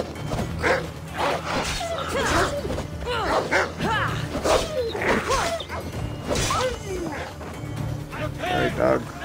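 Dogs bark repeatedly in Assassin's Creed Odyssey, sharp yelps recurring across the scene amid whooshing game effects, with someone talking over much of it.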